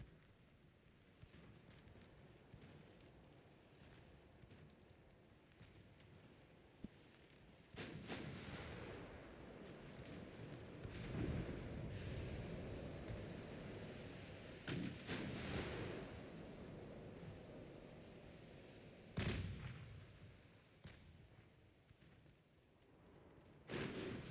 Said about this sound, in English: God, I love 12-inch guns.